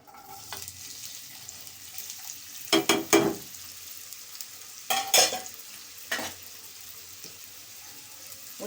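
Onions frying in oil for a mutton and drumstick curry, a quiet continuous sizzle broken by several loud bursts of stirring and scraping in the pan.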